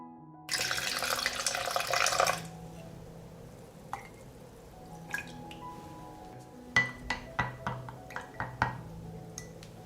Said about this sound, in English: I will pour 100 milliliters of yeast solution into 1 liter of water.